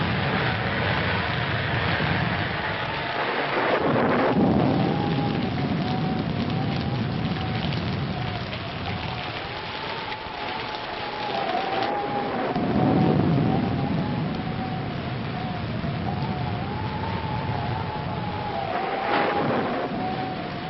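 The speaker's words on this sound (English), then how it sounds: "we'd better get out of here before this storm gets any worse" Heavy thunderstorm with steady rain pounding down throughout, broad and continuous, with low rumbling swells of thunder rolling in and out; no voices.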